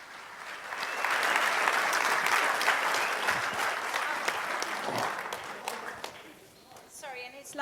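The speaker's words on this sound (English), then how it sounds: "Give him a warm round of applause" Warm audience applause at an autumn political conference, clapping that swells up and holds steadily for several seconds before tapering off as a voice begins to speak.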